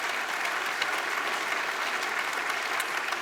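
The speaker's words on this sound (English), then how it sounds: "A big round of applause for everything that the women have accomplished this year." Steady, dense applause from an awards ceremony audience at the 2018 Dally M Medal rugby league night, sustained and even throughout with no pauses.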